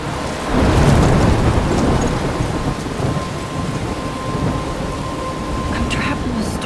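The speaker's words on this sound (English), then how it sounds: "I'm trapped in the storm?" Thunderstorm in the video game Life Is Strange: a deep rumble of thunder swells early and rolls on beneath steady heavy rain pattering on surfaces, with a few sharper drips and crackles near the end.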